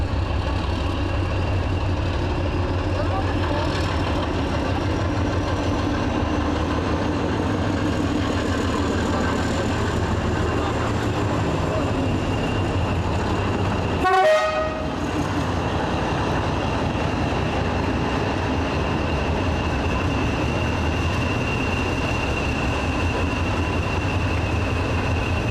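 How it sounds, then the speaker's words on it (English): Class 37 and Class 40 diesel locomotives double-heading a train out of Bury Bolton Street station on a heritage railway, a steady heavy diesel rumble and rolling noise throughout, with a brief sharp clatter partway through. "our first views are of the double-heading 37 and Class 40 leaving Bury Bolton"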